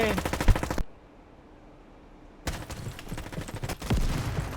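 Bursts of MP5 submachine gun fire in a Roblox shooting game, loud rapid automatic volleys that cut off into near silence before resuming in dense repeated bursts.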